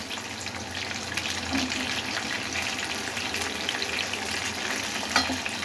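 Quail pieces fry in a generous amount of hot oil, giving a steady, dense sizzle and crackle close by, with faint stirring through the pan.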